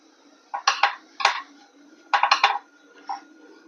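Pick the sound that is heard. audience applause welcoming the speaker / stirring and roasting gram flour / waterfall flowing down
stirring and roasting gram flour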